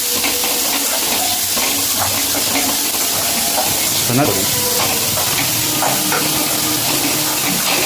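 Crushed garlic dropped into a frying kurma for poori kizhangu gives a steady, close sizzle and hiss throughout, with light stirring and a brief clatter midway, under a quiet voice.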